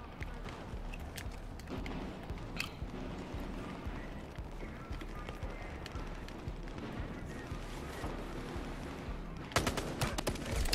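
Pistol gunfire in the shooter game Battlefield Hardline comes as scattered sharp cracks over busy ambient game noise, with a denser burst of shots near the end.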